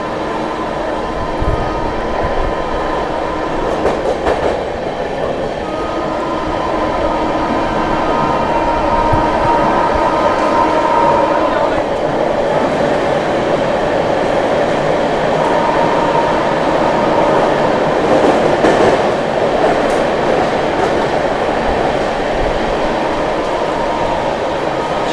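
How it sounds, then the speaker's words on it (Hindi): The Sealdah New Delhi Rajdhani Express, skipping Tundla Junction, rumbles steadily and loudly from inside the coach while overtaking the Islampur New Delhi Magadh Express, with a sustained roar and occasional clatters. "यहाँ पर हम लोग टूंडला जंक्शन स्किप कर रहे हैं और ओवरटेक कर रहे हैं मगध एक्सप्रेस को"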